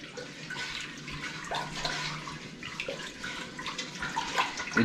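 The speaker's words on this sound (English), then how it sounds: "And we'll give it a stir until it dissolves." Salt being stirred into turkey brine in a pot of water, a soft continuous sloshing and liquid swirl with faint scraping, steady and close throughout.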